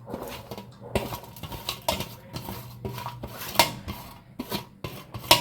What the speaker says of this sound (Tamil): இந்த வெங்காயம் தனித்தனியாக போகிற அளவுக்கு நல்லா பிணைஞ்சி விட்ருங்க.